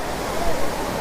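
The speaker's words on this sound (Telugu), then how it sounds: "ఇదిగోండి వాటర్ ఫాల్స్" The Gandahathi waterfall pours steadily, a broad, even hiss and rush of falling water heard from nearby, with a low rumble underneath and no voices over it.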